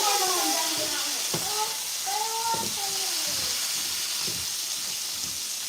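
Steady hissing sizzle of beef frying in a pan, close by, with a voice talking over it.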